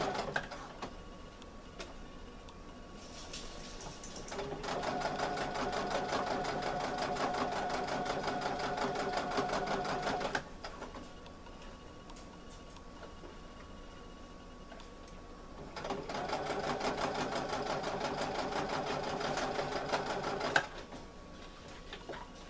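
A sewing machine stitches a zipper pouch in two separate runs of rapid, even mechanical whirring, close and moderately loud, with quiet pauses between and no talking.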